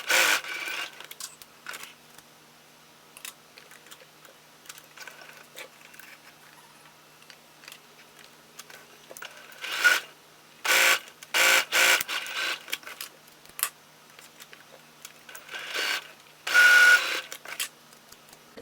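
A sewing machine stitches a plush toy bag together in short bursts of rapid mechanical whirring, with quiet handling and rustling of fabric between runs and no talking.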